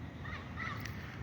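A great kiskadee (bem-te-vi) sings in the morning, its notes faint and distant over steady low background noise.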